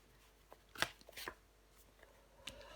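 A tarot card is slid and laid down over another card on a table, giving a couple of soft papery swishes and a quiet flick, faint and close with no talking.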